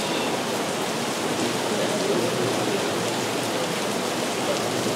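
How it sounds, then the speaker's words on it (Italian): Steady rain falls outside a university lecture hall, a dense, even hiss of noise that holds constant at moderate volume with no voices over it. "sembra che non abbiate mai sentito piovere."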